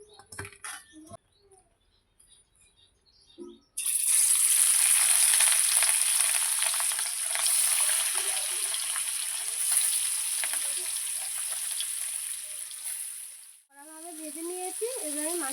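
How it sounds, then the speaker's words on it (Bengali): After a few quiet seconds of small clinks, katla fish sizzles loudly in hot oil with steady crackling and popping, and a voice speaks briefly near the end. "এবার আমি মাছটা ভেজে নেবো"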